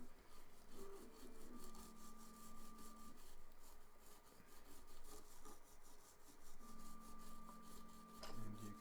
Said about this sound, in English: all I do is I start to scrub it